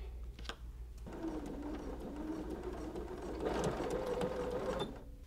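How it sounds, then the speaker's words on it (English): Sewing machine stitching binding onto a cuddle strip quilt, a steady motorized whir running near and continuous through most of the clip, with a short pause early on before stitching resumes. "I'm going to Wonder Clip again and keep on sewing."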